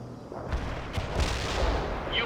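Artillery fire in the real-time strategy video game World in Conflict, several deep booming shots and rumbling impacts spaced across the moment under continuous battle noise, with radio-style voices talking.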